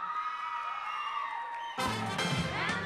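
An audience cheers for dancers on stage at a dance competition, a bright swell of whoops and high shouts that suddenly grows louder and fuller with clapping partway through, sustained crowd noise.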